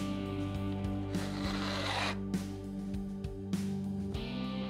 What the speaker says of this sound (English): Slide the file down the fretboard using an even and controlled pressure to cut the bevel